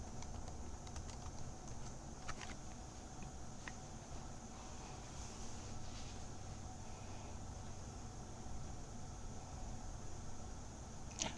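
A computer keyboard clatters with quiet, steady typing of a search into a Linux package manager, soft key clicks running continuously over a faint hiss of room noise.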